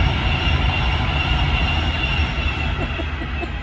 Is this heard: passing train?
yes